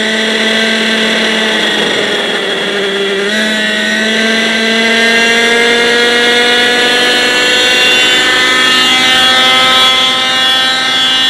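Raptor 30 gas-powered RC helicopter engine spooling up on the ground, a loud, close, steady whine with strong harmonic overtones that shifts pitch partway through and then holds high, with no talk.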